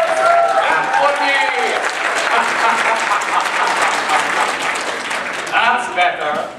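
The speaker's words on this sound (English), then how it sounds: "So please, clap when you love something." Audience clapping in a theatre show's opening act, a loud steady wash of applause with a performer's voice speaking over it at the start and again near the end.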